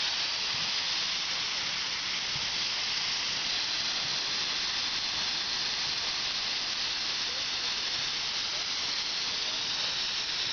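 A steam locomotive hisses steadily at an open house, a loud, unbroken broadband rush of escaping steam that lasts throughout.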